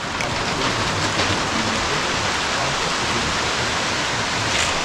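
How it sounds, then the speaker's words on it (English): Steady, dense rain hissing down onto the hard deck of an abandoned cruise liner, a continuous broad wash with no pauses and no voices. "Rain on an uninhabited liner."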